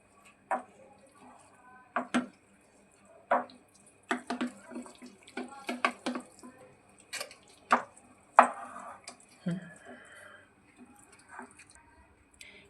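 Chopped vegetables are stirred into a thick uttapam batter in a bowl, giving sporadic soft wet squelches and spoon taps at an irregular rhythm. The sounds are fairly quiet and close, with light background noise.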